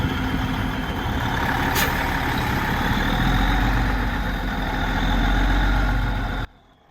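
Concrete truck idling on a job site while dumping its load, a steady low diesel rumble with a brief hiss partway through, moderately loud, cutting off abruptly at the end.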